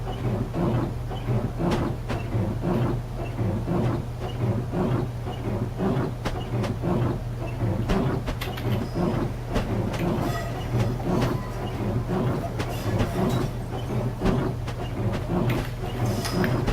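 Simulated Class 395 Javelin high-speed electric train running in Train Simulator 2014 on a frosty route, a steady low rolling rumble with faint rhythmic clicks over the rails, continuous and fairly close throughout, with no talking.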